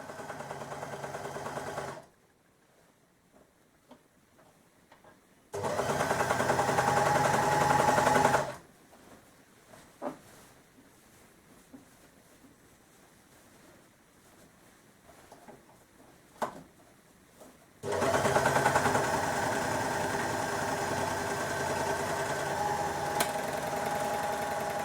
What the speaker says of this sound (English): you just need to put this through the machine now and sew these three parts together